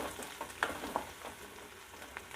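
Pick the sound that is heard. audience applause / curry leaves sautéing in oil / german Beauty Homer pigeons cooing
curry leaves sautéing in oil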